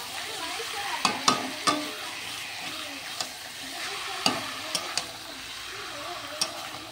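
Fresh chicken, drained of water, frying in a kadai (wok), with a continuous sizzle broken by sharp spatula scrapes and clanks against the pan at irregular intervals.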